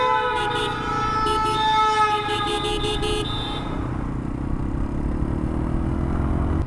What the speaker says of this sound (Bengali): প্রত্যেকটা বাঁকে বাঁকে হর্ন দিতে হয়, নতুবা যে কোনো বিপদ ঘটতে পারে।